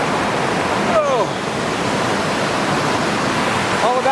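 A waterfall roars in a loud, constant broadband rush close by, with brief chirping sounds.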